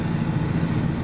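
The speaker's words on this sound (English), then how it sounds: "So the tractor's bogging down here." A tractor pulling a disc through wet, poor-quality dirt, running around 1700 RPM, gives a steady, heavy low engine drone that stays loud and unbroken, with no talking over it.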